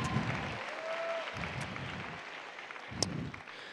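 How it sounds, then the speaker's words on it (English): A high school class of 2018 applauds itself at its graduation ceremony in a large hall, a soft, diffuse spread of clapping heard from a distance, fading slightly over a few seconds, with a faint whoop near the end. "Give yourselves a round of applause here"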